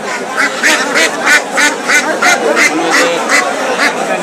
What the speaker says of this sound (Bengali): এটা দেশি হাঁস।